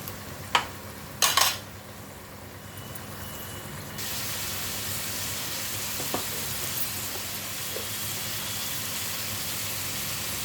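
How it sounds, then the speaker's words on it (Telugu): Mutton tipped into a pan of frying ginger and garlic: a few sharp clatters, then a strong, steady sizzle that jumps up in loudness and carries on evenly, close and without talk. "ఇప్పుడు మటన్ వేసేస్తాను"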